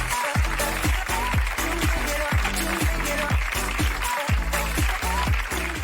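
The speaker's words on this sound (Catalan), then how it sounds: "aplaudiment per ella." A television studio audience claps steadily for a contestant on a Catalan game show, a dense, sustained round of applause with rhythmic beats running underneath.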